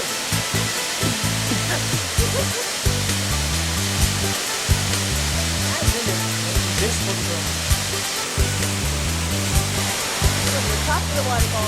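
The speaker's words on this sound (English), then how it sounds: "Top of the waterfall." A waterfall in Bhutan sends up a loud, steady rushing roar, with a low mechanical drone and faint voices sitting under the constant water noise.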